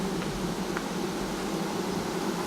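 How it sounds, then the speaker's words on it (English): Loud, steady buzzing of a mass of bees at a beehive, close and continuous with a dense droning hum, no talking. "There's some loud bees."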